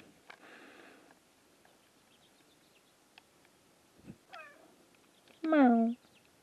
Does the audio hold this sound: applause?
no